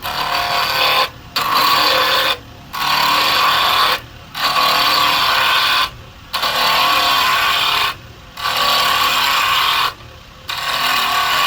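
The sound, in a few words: carbide tool cutting a wood ring on a lathe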